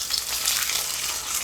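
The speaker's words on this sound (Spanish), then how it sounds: "Vamos a hacer las chuletas y simplemente las vamos a ir friendo" Pork chops fry in hot oil in a pan, giving a steady, dense sizzle that holds at an even level throughout with no voices.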